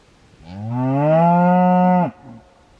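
A single long, deep moo from a cow nearby, rising slightly and holding steady before cutting off abruptly, with little else around it.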